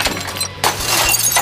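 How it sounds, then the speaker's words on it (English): Car glass smashed in a junkyard: a sharp shattering crash opens, then after a short pause a second loud, bright burst of breaking glass with scattered tinkling debris, close and loud with no talk. "We smashed some glass."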